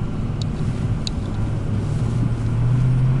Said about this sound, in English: Test the four-wheel drive right now.